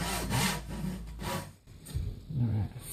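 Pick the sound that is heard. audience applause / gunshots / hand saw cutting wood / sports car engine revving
hand saw cutting wood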